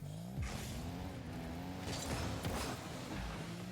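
A car in Rocket League drives with a steady engine hum, plus brief whooshes and boosts, close and continuous with no talk.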